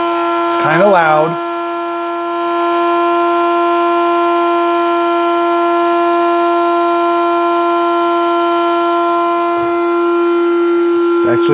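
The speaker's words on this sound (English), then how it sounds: "So it's grinding the coffee." A Cuisinart Grind & Brew coffee maker grinds coffee beans with a loud, steady motor whine that holds for about ten seconds, after a brief spoken remark at the start.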